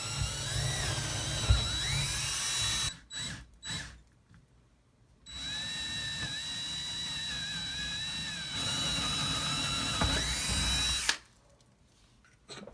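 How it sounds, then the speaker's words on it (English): A power drill drilling holes into a wall for anchors whines in long continuous bursts, stopping briefly between runs, with short clattering pauses and a final stop near the end. "So we're gonna drill through here and through here."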